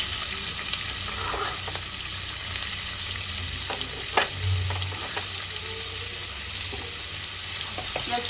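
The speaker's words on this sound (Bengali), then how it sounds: "এবার আমি এর মধ্যে একটা বড় সাইজের পেঁয়াজ কুচিয়ে নিয়েছি দিয়ে দেবো" A large chopped onion fries in oil over spices already tempered, giving a continuous soft hiss with scattered clicks and scrapes from stirring.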